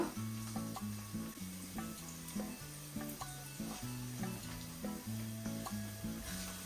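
Onions frying in a pan for chicken curry, turning caramel-coloured, with a steady, hissing sizzle throughout, under a bouncy background music melody.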